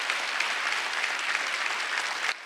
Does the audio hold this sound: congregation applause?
yes